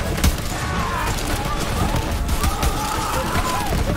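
Burst of gunfire and explosive blasts in the video game Mayhem 10 Gehana, rapid loud cracks and booms layered over chaotic combat noise, with a voice talking over the action.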